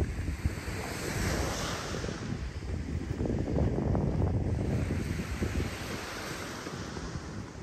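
Strong wind buffets the microphone on a beach shore at Delnor-Wiggins Pass State Park after Hurricane Ian, with surf rolling and hissing continuously beneath the gusts.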